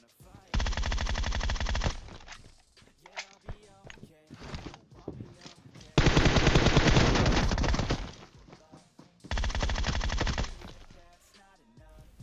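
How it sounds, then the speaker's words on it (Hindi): Gunfire in the PUBG Mobile video game: three long, loud bursts of rapid automatic fire separated by quieter stretches where someone talks excitedly, with faint footsteps between the bursts. "दूसरा बंदा न जाने कौन सी महंगी गन चला रहा है"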